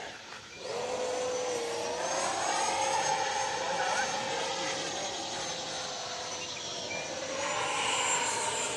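A Freewing F-22 Raptor RC model jet flies overhead with a steady, whining electric ducted-fan roar whose pitch slowly rises and falls as it passes, loud and continuous for the whole stretch.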